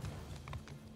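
Horses in the Mount and Blade II: Bannerlord video game move about with faint, quiet hoof clip-clops, a few soft knocks in a low rumbling background.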